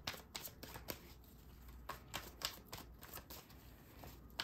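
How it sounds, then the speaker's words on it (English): A deck of tarot cards is shuffled close up in a quiet room. Soft, rapid riffling and flicking bursts repeat in uneven quick rhythm with no voices. "Oh, the cards are just shooting out today."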